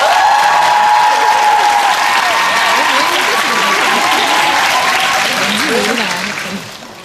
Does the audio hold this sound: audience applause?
yes